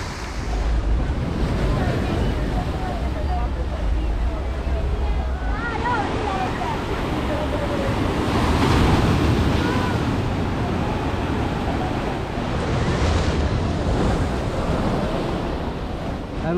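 Sea waves surge and wash steadily onto the shore at Cherai Beach, a continuous roar of surf with heavy wind buffeting the microphone and distant voices of people on the beach beneath it.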